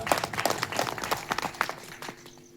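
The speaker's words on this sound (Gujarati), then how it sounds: "એ બધાની એક જોરદાર તાળીઓ ગડગડાટ" An audience at a satsang gathering claps, a fairly faint round of scattered, uneven hand claps that thins out and fades toward the end.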